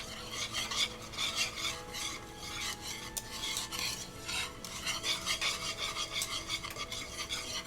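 A spoon stirs a thickening potato and bacon soup in a pot, giving steady, soft scraping and rubbing strokes in an even repeating rhythm, close and fairly quiet with no talk.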